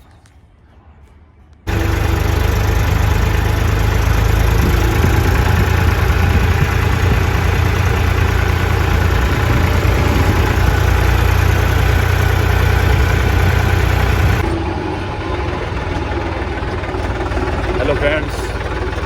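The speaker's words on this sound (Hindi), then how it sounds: "तो मुझे आज ट्रैक्टर चलाने की ड्यूटी दी गई है।" A tractor engine runs steadily and loudly while being driven, a constant low diesel drone that kicks in abruptly after a quiet start and eases slightly near the end.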